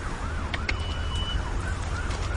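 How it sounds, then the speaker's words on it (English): An emergency vehicle siren wails in a steady rising-and-falling pattern through street traffic, moderately distant and continuous over a low rumble of passing cars and road noise, with a few brief higher clinks mixed in. "Here comes a siren."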